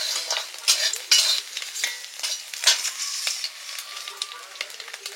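Paneer frying in a pan, with crisp crackling sizzle and repeated metal spatula stirring and scraping clinks, close and moderately loud.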